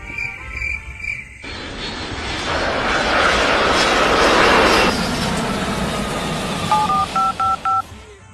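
A jet engine roars up and swells loudly for several seconds before fading, with short electronic beeps and tones before and after.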